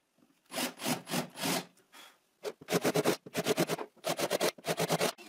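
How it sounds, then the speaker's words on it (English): A countersink drill bit cuts into guide holes in wood for an Adirondack chair, giving a series of close, loud grinding bursts: two longer runs, a short pause, then several rapid repeated passes. "Now I use a countersink drill bit to countersink the guide holes"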